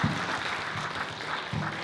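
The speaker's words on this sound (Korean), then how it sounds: "다시 한번 박수 부탁드립니다" A hall full of people claps at a clan association's anniversary ceremony, welcoming a newly inaugurated chairman with a steady patter of applause.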